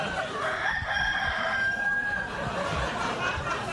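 A rooster-like crowing call, likely a person imitating a chicken, carries steady over a live talk-show stage's background hubbub.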